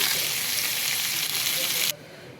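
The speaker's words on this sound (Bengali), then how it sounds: "এই দেখেন তেল দিয়ে আমি বাছতাছি সবজিগুলা, শীতের সবজি, নতুন ফুলকপি।" Winter vegetables and fresh cauliflower fry in oil with a loud, steady close sizzle that cuts off abruptly near the end, no talk over it.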